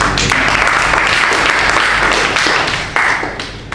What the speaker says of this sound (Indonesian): Mungkin kita berikan aplaus sekali lagi.